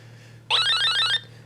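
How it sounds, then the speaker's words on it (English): The 1979 Parker Brothers Stop Thief electronic board game gives its window-breaking sound, a short burst of warbling electronic tones lasting under a second over a faint hum, with no talk. "That is the sound of a window breaking."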